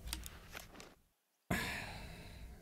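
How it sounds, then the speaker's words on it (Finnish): A hunter character in The Hunter: Call of the Wild breathes heavily after shooting at a bear with a crossbow, several ragged breaths cut by a brief dead silence, then a loud rushing exhale, close and alone. "Helvetin hengitys."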